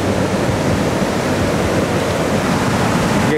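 Sea waves at the beach of Hotel Tesoro Ixtapa in Mexico, a continuous loud broadband roar of surf with no distinct breaks or voices.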